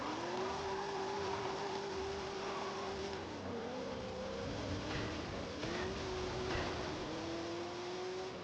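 An old Ford drifting in Forza Horizon 5, its engine droning and shifting pitch continuously while tires squeal through long slides, close and loud from start to finish.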